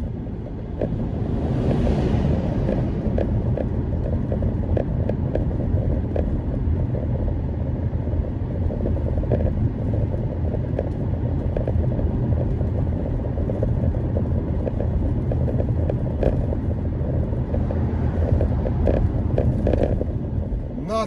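A car drives through a rough mountain road tunnel near Loveland Pass, Colorado, with a loud, steady rumble of road and wind noise filling the whole stretch without a break.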